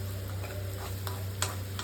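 Ingredients soften in butter in a pan while cooking chicken tuscan. The result is a quiet, steady sizzle with faint scrapes of stirring.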